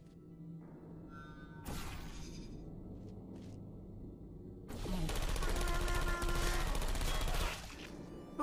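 Automated turret gunfire in the Portal 2 video game, long sustained rattling bursts with a brief gap between them, loud and close, mixed with game sounds.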